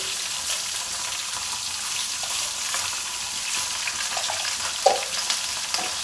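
Turmeric goes into a hot pan of frying food, a steady close sizzle with a few scraping stirs and small clinks near the end.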